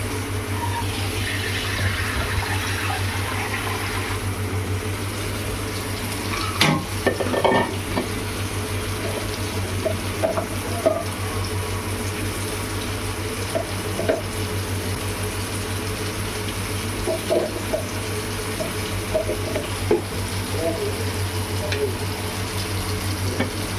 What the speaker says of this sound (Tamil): கருவேப்பிலை தாளிச்சிக்கலாம்.